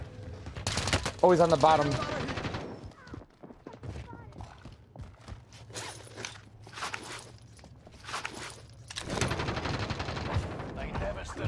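Bursts of AK-74u gunfire in Call of Duty Warzone, rapid automatic volleys at the start and again near the end, with scattered shots and footsteps between, under excited voices of players talking.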